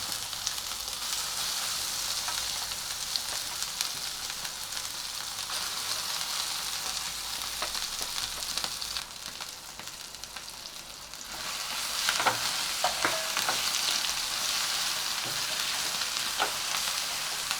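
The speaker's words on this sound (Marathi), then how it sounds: "भर परतून घ्यायचं आहे आपल्याला फोडणीमध्ये" Mashed ridge gourd bharit is stirred and fried in a hot mustard-seed, asafoetida and curry-leaf tempering, giving a steady close sizzle with occasional spatula clinks and scrapes partway through and no talking.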